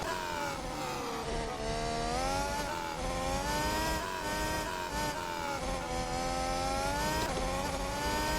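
A race car on a hot lap at Sebring screams loud and continuously at high revs. The pitch rises and falls quickly as it shifts gears and brakes for corners, with no talking.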